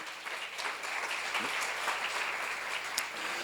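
Church congregation clapping at a seminar, a dense, steady burst of applause that fills the room for a few seconds without speech.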